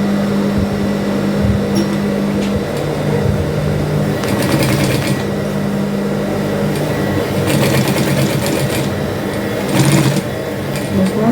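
A sewing machine stitches fabric for an Afrocentric souvenir bag, running in several fast rattling bursts over a constant close hum, with pauses between the runs.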